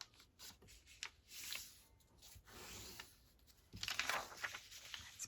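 A paper page for a Midori-style journal is folded by hand, producing soft crinkles and rustles close by, quiet and intermittent, with a brisker burst of crackling paper near the end.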